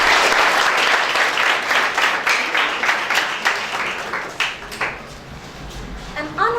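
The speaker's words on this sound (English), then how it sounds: "A round of applause for them." A loud burst of applause for student debaters at a secondary school debate, dense clapping close by that gradually thins into scattered claps, with a voice briefly audible near the end.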